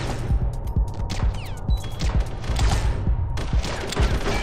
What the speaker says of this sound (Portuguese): deixa eu dar um tiro na tua cara